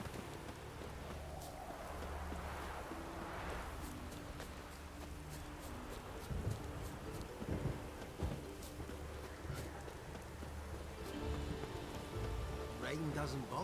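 Steady rain patters on a surface throughout, with scattered drip ticks and a low continuous hum underneath.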